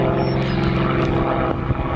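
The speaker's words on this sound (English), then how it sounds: "they're pretty small planes" Small propeller planes flying low overhead, a loud close droning engine hum with steady tonal buzz that holds through the whole moment.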